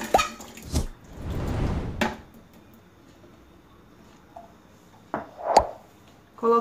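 Two cans of sweet corn with their canning liquid tipped into a blender jar for a creamy chicken fricassee, giving a wet gushing pour mid-clip between a few sharp clicks and clunks of the cans against the jar.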